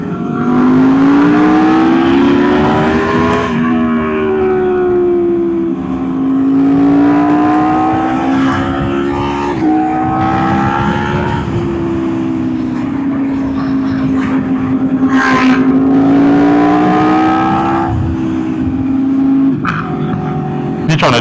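A Kawasaki ZX6 motorcycle rides and revs loudly up close in San Diego, its engine note rising and falling steadily across the clip with a sharper rev near the end, under wind and occasional voices.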